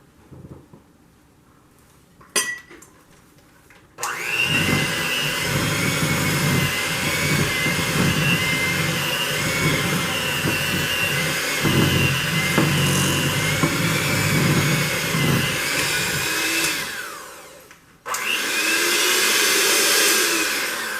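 Electric mixer whirring through lemon cake batter for a sticky lemon cake, a loud steady motor whine with a rough churning texture, running close and continuous for over ten seconds, stopping briefly and then starting again.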